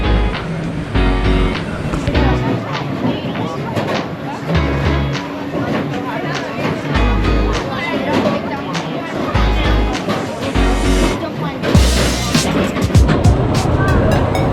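Scorpion roller coaster at Busch Gardens Tampa Bay, a loud rushing roar of wind and rattling track with clattering bursts and rider voices throughout.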